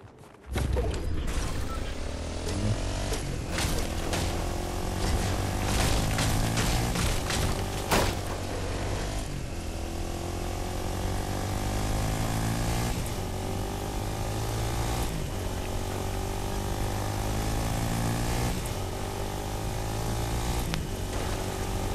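Quad bike in the Fortnite battle royale game on PS5, its engine droning loudly and continuously with rising and falling revs as it drives, with no talk.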